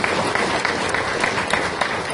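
Applause for the director general of the Atomic Energy Licensing Board at a formal event, a dense steady wash of clapping from a large audience filling the whole stretch without letup.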